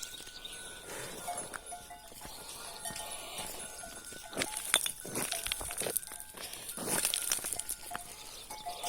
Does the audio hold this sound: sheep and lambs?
yes